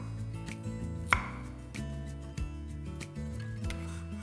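A knife chops ginger and garlic steadily on a board, a series of sharp taps at an irregular pace, with one louder strike partway through and no talking.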